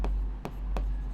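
Pen or pencil writing a math solution by hand, three short scratchy strokes in quick succession, close and quiet, no voice.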